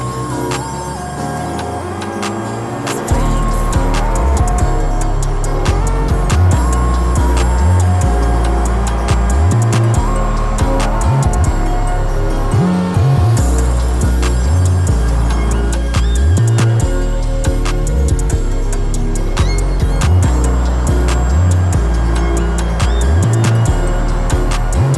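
A custom-built Ibishu car in BeamNG.drive laps a race track, its engine droning loudly and steadily while repeated revving and shifting swells rise and fall over the whole stretch, with no voice over it.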